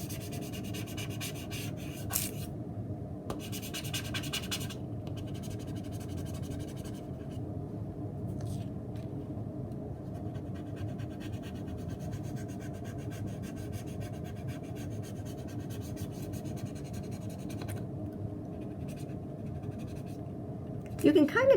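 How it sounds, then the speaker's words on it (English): Rub-on transfer from Magnolia being burnished onto card paper, giving soft, close scratchy rubbing strokes that come in short bursts and then settle into a steady, quiet rasping. "we're going to take and burnish that on"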